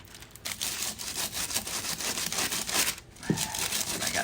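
Aluminum foil being pressed and rubbed down onto a wooden birdhouse with a Clorox toilet bowl scrubber, giving a steady close crinkling, scraping rustle with short pauses.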